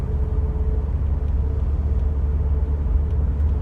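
A Porsche 944 is driven on the road, its engine a steady low rumble with road noise that stays even and close throughout.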